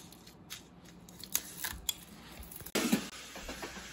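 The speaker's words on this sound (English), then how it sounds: "Cut the flour peppers into small pieces." Dried chili peppers being snipped into small pieces for a Sichuan boiled beef dish: several crisp, separate scissor cuts, then a denser crunching rustle of dry pepper pieces, close and fairly quiet.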